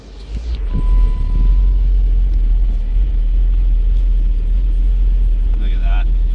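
A 6.1L HEMI SRT8 Jeep Grand Cherokee engine running steadily with a loud, continuous low rumble that holds even throughout, with brief voices and small knocks in the background.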